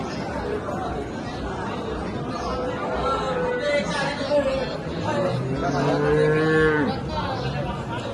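Several cows, including HF cows, moo loudly nearby, long drawn-out calls over a background of crowd chatter and people talking, at the Ghodegaon cattle market.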